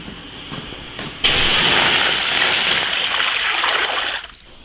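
Blanched pig stomach and pigeons rinsed in clean water beside a large iron wok: a close, loud rush of pouring and splashing water that starts abruptly, runs about three seconds, then drops away.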